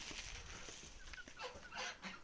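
Chickens and chicks cluck and chatter faintly at a distance, a few short calls rising over a soft, noisy outdoor background.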